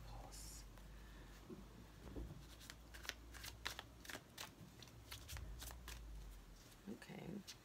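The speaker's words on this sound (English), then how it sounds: "Let's see how it shuffles." A new Modern Witch tarot deck with slightly slippery cards being shuffled by hand, several crisp riffling bursts and soft card slaps, close and quiet, with brief low murmurs between.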